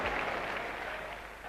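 Cricket crowd at an Australia versus South Africa one-day final, a sustained wash of clapping from a large stadium audience that holds steady and fades slightly at the end.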